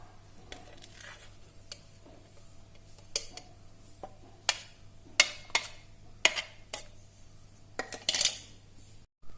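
A bowl and a strainer being handled while making onion juice: a run of light metallic clinks and taps, quick and irregular, fairly close, over a low steady hum with no talking.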